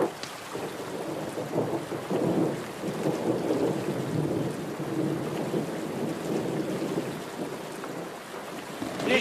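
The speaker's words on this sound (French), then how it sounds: "on dirait qu'il va pleuvoir" Thunder rumbles through steady heavy rain in a Lucky Luke cartoon episode, a long rolling low roar that swells and fades over continuous rainfall, with no talk.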